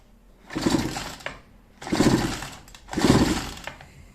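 Small two-stroke chainsaw engine with a suspected weak spark plug running unevenly at idle, surging in three broad pulses with brief dips between, close and fairly loud, no talk.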